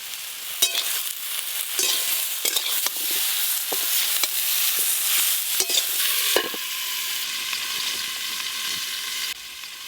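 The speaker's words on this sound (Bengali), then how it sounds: "চিচিঙ্গাগুলো কিন্তু ভালো করেই ভাজা ভাজা হয়ে গেছে" Chopped snake gourd sizzling and frying in a pan, with steady hiss and scraping stirs from a spatula, close and fairly loud, no talking.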